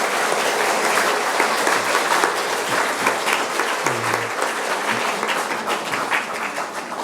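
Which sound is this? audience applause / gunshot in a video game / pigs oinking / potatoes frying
audience applause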